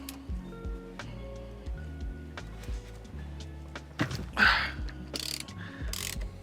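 Ratchet with an extender loosening a tight bolt during a Tesla Model Y/3 yoke steering wheel install, its quick metallic clicks coming in short bursts under a steady tonal background, louder toward the end.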